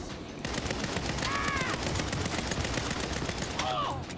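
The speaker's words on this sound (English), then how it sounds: "Why is this gun such a bullet hose?" A rapid-fire gun in Saints Row sprays a continuous, dense stream of shots at close range, with a few brief whistling tones cutting through the barrage.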